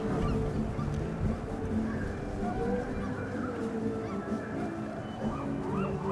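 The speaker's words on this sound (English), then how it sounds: "I'm sure these seagulls are hoping that this is still a big fishing area." Seagulls call at Fisherman's Wharf in San Francisco, their squawks rising over a steady wash of busy waterfront crowd and street noise.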